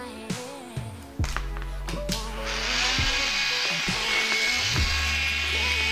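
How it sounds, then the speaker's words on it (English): An electric nail drill with a medium bit whirs on a nail in short bursts, stopping and starting several times, then runs in a steady high whine near the end. "Now I'm going to go in with my drill, this one."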